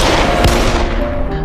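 A loud gunshot in a horror TV series: a sharp, close blast over a dense, roaring background that stays heavy throughout.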